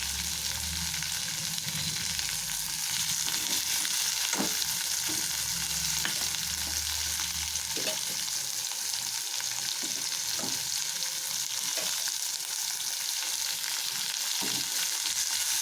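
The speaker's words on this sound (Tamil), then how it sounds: "வெங்காய தக்காளி நல்லா வதக்கிட்டு" Onion and tomato sauté in a pan for kuzhi paniyaram, a steady sizzle broken by repeated scraping stirs of a spoon, close and with no voices.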